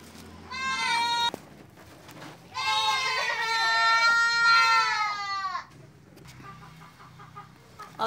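Goats bleat loudly and repeatedly at feeding time on a small farm, long wavering cries close by, with chickens clucking faintly in the background.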